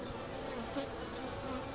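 Honeybees buzzing around their hive, a continuous close drone of many wings holding steady in pitch and loudness, faint overall with no voices.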